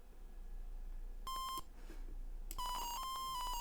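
Single-channel square-wave beeping chip music from a Commodore PET, short bright tones and held notes sounding alone over a low background hum.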